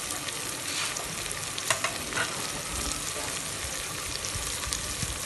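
Chicken pieces and tomatoes sizzle and fry loudly in a hot pan for Lahori murgh cholay, a continuous crackling hiss with occasional stirring scrapes and no talking.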